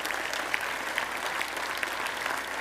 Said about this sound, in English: One more round of applause for the Asplundhs.